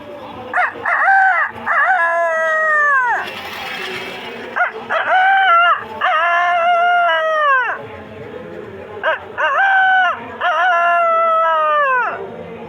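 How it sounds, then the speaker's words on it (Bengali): A rooster crows again and again, loud and close, each call a long, drawn-out harmonic cry separated by brief pauses. "এই যে মুরগের ডাক"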